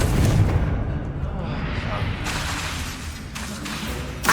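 Confringo blasting spell explosion in the Hogwarts Legacy video game: a loud, sustained rumbling blast that fills the whole stretch and tails off with crackling debris, alongside game sounds.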